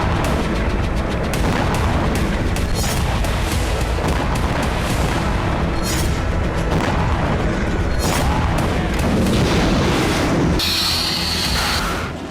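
Syrian army gunfire and artillery during fighting in Hama, a dense, loud barrage of booms and bursts of shots rolling over one another continuously, with a sharper crackle near the end.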